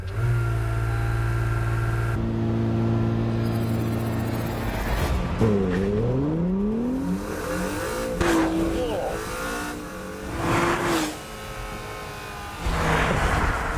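A Honda NSX in track mode holds steady at the line, then launches hard under launch control. Its engine note climbs in loud, close rising sweeps through quick gear changes.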